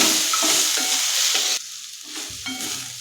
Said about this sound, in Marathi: त्याच्यासाठी टोमॅटो मऊ होईपर्यंत परतून घ्यायचे आहे